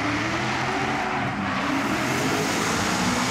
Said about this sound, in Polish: Potężny motor BMW